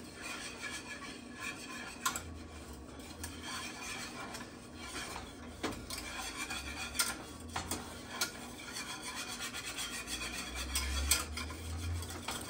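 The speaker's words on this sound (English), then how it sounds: "I'm gonna go ahead and add my flour. And just give it a nice whisk." Flour is whisked into melted butter in a pot, giving quick rhythmic scraping and light metallic clicking against the pot, close but quiet, with no talking.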